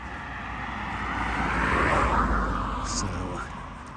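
A car approaches along a quiet country road near Great Longstone in the Peak District, its engine and tyre rumble swelling steadily louder as it nears, heard close by under light wind.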